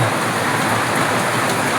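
Steady heavy rain pouring down, a dense continuous hiss of drops striking surfaces close by, with no voices.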